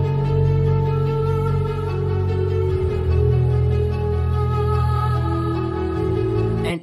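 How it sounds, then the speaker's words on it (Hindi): Copyright-free background music of the kind used on a fact-style channel plays alone and steadily, with a sustained tonal bed and low bass throughout and no voices. "यहाँ पर आप उनका बैकग्राउंड म्यूजिक सुन सकते हो जो अपनी वीडियोज में वो यूज़ करते हैं।"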